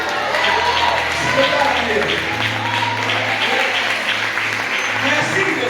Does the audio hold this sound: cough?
no